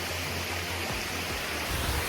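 Cold stream water rushing and splashing around bare feet on a hike, a steady close broadband wash with no voices.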